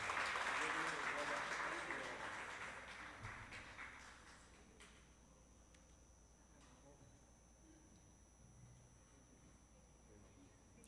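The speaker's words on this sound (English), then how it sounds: "A round of applause, please, for Hypernova Space Technologies." Faint, distant applause rises from the audience at an awards ceremony. It is loudest at the start and dies away within a few seconds, leaving a quiet room tone with soft background noise.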